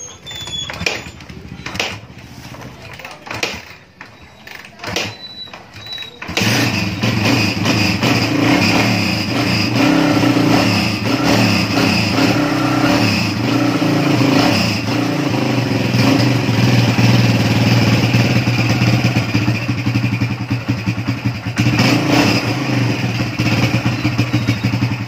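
A Kawasaki Barako 175 motorcycle is started during maintenance: a few seconds of quieter fumbling and clicks, then the single-cylinder engine catches and runs at a loud, steady idle with slight throttle variations for the rest of the time.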